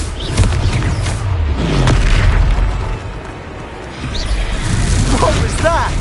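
A Confringo spell in the Hogwarts Legacy video game goes off as a deep booming explosion with rumbling low end and a swishing burst, loud and close, followed by a sustained roar that keeps resounding.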